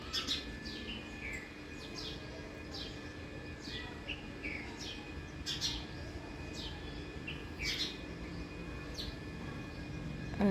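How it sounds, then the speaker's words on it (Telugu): Repeated sparrow chirps, short sharp cheeps coming in irregular bursts over a faint steady background hum, fairly close by. "ఇక్కడ ఉన్నాయి చూడండి ఊర పిచ్చుకలు చిట్టి పక్షులు ఇవి అన్నీ వస్తూనే ఉంటాయి"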